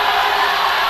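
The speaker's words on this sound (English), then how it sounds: "The crowd is absolutely killing it." Loud, dense basketball tournament crowd cheering and roaring without pause, a close, sustained wall of voices in a packed gym.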